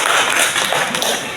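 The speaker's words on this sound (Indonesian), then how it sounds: "Tepuk tangan untuk Anda" Children in a primary school classroom clapping together, a brief dense burst of many hands applauding, loud and close, fading out after about a second.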